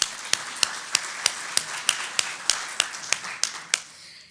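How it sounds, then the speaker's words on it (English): Steady, evenly spaced claps ring out close by at a chamber of commerce luncheon, about a dozen sharp hand claps in a regular rhythm with no talking over them. "Let's give them a round of applause"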